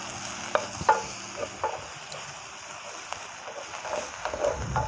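Garlic and onion sautéing in a pan for spring roll filling, a steady soft sizzle with scattered clinks and scrapes of stirring, close and fairly quiet, no talking.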